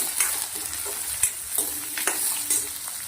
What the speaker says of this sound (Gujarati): ડુંગળી થોડી આપણે શેકી લેવાની છે